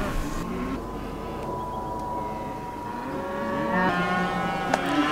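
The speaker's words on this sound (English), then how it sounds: "I'm just quite fascinated with all these cattle here." Cattle moo in a New Zealand field on a quiet morning, a long low call with a rising second moo near the end, moderately distant over faint ambient noise.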